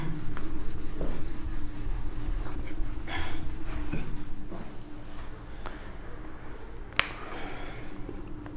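Chalk or marker writing being rubbed off a classroom board, a steady close scraping and brushing that runs throughout with a few light taps and knocks, no voices over it.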